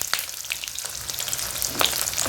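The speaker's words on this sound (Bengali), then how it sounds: "এই তেলে আমি পটলগুলোকে প্রথমে ফ্রাই করে নেব নুন আর হলুদ দিয়ে।" Pointed gourd frying in hot oil with nigella seeds, a continuous close crackling sizzle with scattered sharp pops and spatters throughout, no voices.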